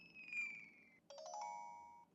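A Havit KW12 kids' smartwatch plays short electronic notification tones: a falling chime, then a brief pause and a brighter two-part electronic tone, clear and alone.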